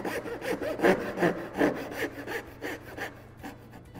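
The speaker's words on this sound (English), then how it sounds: "as I approach that marking gauge scribe, I'm angling the saw blade forward." Hand saw cutting wood dovetails toward a marking gauge line, with a steady rhythm of about nine rasping push strokes, close and fairly loud, the strokes lightening toward the end.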